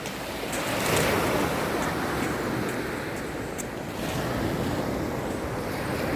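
Rough sea waves breaking on a beach make a steady, loud roar of surf, with wind buffeting the microphone and no voices over it.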